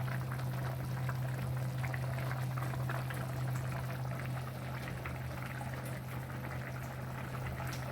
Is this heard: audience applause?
no